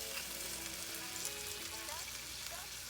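Cut asparagus sizzles steadily in hot sesame oil, a dense, even frying hiss with faint crackles throughout.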